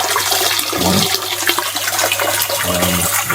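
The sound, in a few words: ice bath filter pump circulating water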